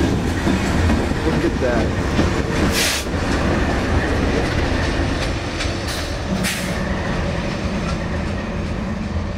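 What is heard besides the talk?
freight train passing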